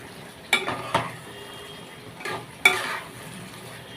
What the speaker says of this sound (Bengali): দেখো, নাড়ছি আমি